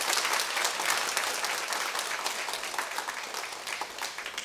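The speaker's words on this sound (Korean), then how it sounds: "우리 환영의 박수로 축하드립니다." A church congregation breaks into dense, sustained welcoming applause, a steady wash of many hands clapping at once that fills the room without pause.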